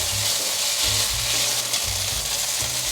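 Carrots stir-fried in a hot wok, steady loud sizzling with the rhythmic scrape and toss of a spatula, no voices.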